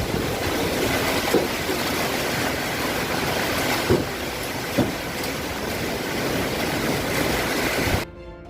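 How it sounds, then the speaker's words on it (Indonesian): Heavy rain and strong gusting wind from a typhoon over the town of Selatpanjang roar as a constant dense wash, with a few dull thumps, before cutting off abruptly near the end. "Sekarang hujan lagi, campur angin kencang teman-teman."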